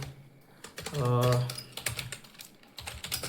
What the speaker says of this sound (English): Let's clear the terminal and let's type in sudo systemctl